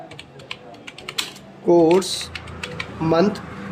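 Rapid clicking keystrokes on a computer keyboard while text is entered into a table in Microsoft Word, close and steady, briefly overlapped twice by a man's speech.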